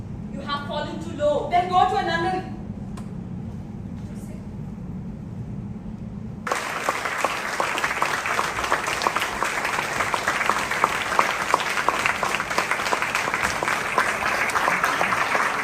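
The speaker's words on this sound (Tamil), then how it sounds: "நிகழ்ச்சி முடிந்ததும் பார்வையாளர்கள் கைத்தட்டி மகிழ்ச்சியை வெளிப்படுத்தி உற்சாகமடைந்தனர்" Audience at a show in Pondicherry bursts into dense, sustained applause after about six seconds, following a stretch of talk and low hum; the clapping stays steady and fairly loud to the end.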